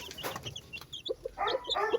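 A mother hen clucks softly to her newly hatched chicks while they feed, giving short low clucks close by, with faint higher chirps from the chicks among them.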